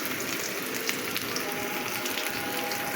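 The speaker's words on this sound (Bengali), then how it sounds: "এখন আমি এগুলোকে সুন্দর করে ভেজে নেব" Onion and bay leaves fry in hot mustard oil with a steady, even sizzle, with faint crackles and a few soft stirring scrapes over the top.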